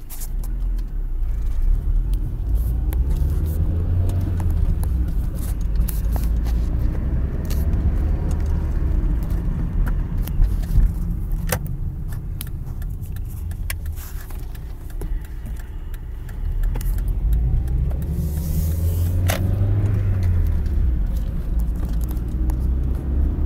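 A Mazda Protege5 car engine runs with a steady low rumble and a faint odd ticking or whirring noise over it, close and continuous, with no talk.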